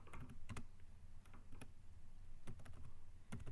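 Keystrokes on a computer keyboard come in short clustered bursts, several quick taps followed by pauses, close and moderately loud over a faint room hum.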